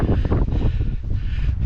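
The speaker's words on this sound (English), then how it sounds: "Just climbed high enough for the wind to reach me." Wind blowing across an exposed hilltop above a wooded valley in the Peak District in February, a loud steady rumble with gusty buffeting against the microphone, no voices.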